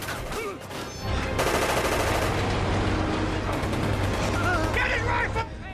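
Heavy gunfire from a Nazi company's attack in a forest in the film Defiance: loud bursts of automatic and rifle fire with booms, dense and sustained, with faint voices beneath.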